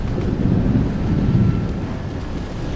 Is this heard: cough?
no